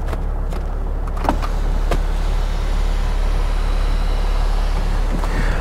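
An electric sunroof motor on a cheap Mercedes S-Class opens the roof, a steady whirring drone running throughout inside the car, with a few faint clicks and knocks early on.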